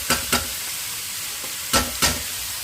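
Ridge gourd pieces sizzle in hot oil with fried onions while a spoon scrapes and stirs the pan in four distinct strokes over a steady frying hiss. The sound is close and no one speaks.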